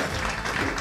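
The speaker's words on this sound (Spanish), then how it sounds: "¡Fuerte el aplauso!" Theatre audience applauding a show in Termas, a thick, steady roar of many hands clapping at once, loud and unbroken for the brief moment.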